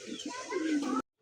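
A matched pair of Black Diamond Lakkha pigeons gives a brief, close, throaty coo that swells and then cuts off abruptly after about a second.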